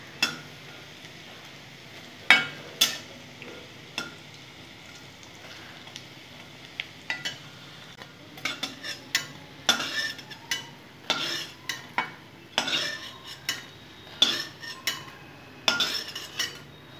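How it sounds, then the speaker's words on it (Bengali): Fritters of leafy greens bound with ground Gobindobhog rice paste fry in a pan, a soft sizzle under repeated sharp clinks and scrapes of a spatula turning them. "কি সুন্দর মুচমুচে হচ্ছে ভাজাগুলো"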